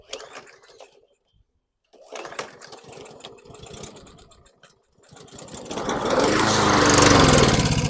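A 2018 Troy-Bilt TB110 push mower is handled with scattered clunks and rattles before its small engine starts and runs loud and steady for the last few seconds.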